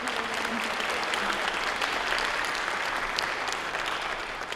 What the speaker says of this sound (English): Let us applaud all of those folks.